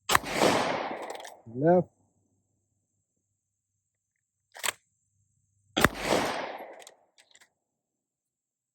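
Springfield Armory Echelon pistol fired at a target: two sharp, loud shots several seconds apart with a faint crack between, each decaying quickly, with a brief voice speaking between them.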